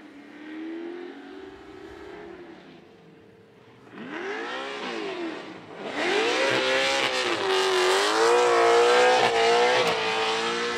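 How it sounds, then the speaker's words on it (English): Drift race cars warm up before battles, their engines revving and climbing in pitch in repeated surges, rising from a moderate idle to a loud, sustained, wavering roar that grows as more cars join in, with no talking. "So Yves Meyer is going through the finish line while we prepare 4 new cars to warm up before the next 2 battles."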